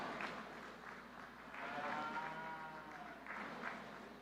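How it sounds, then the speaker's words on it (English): Ringside applause from spectators at a cattle show's heifer calf division in an arena in Victoriaville, Quebec, a steady, fairly faint wash of clapping that swells in waves and holds throughout. "let's give these exhibitors a big round of applause."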